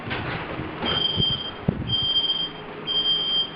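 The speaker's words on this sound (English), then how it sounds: "we got a fire alarm going off" A fire alarm going off in an apartment building, its high electronic tone sounding in repeated long pulses over a noisy background, with a brief thump partway through.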